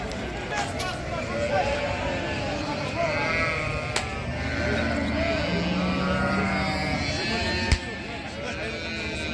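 Ewes with their lambs bleat repeatedly at the Taraz livestock market, their calls rising over a crowded bed of voices and market noise, with people talking nearby throughout.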